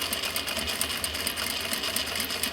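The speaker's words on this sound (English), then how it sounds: "And I'm top stitching right along the edge here. It's going to get pretty thick in some places." A sewing machine with a size 16 needle topstitches along the edge of a thick recycled denim pouch, running in a steady, fast, even whir with close rhythmic needle ticks and no pauses.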